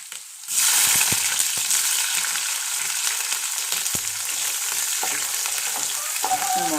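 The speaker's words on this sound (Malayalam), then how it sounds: "എണ്ണ ചൂടായി കടുകിട്ടു" Mustard seeds dropped into hot oil burst into a sudden loud sizzle, then keep up a steady crackling hiss with sharp pops and spatters close by.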